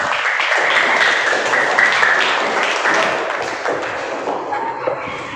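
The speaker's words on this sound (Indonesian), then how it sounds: "Tepuk tangan untuk teman-teman." A classroom full of students claps together in a burst of loud, dense applause that slowly thins and fades out over several seconds.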